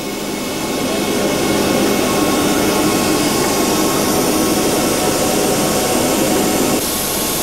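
The jet engines of an Antonov 124 cargo plane run before taxiing, making a loud, continuous broadband roar that swells up in the first second and then holds steady, heard from close by.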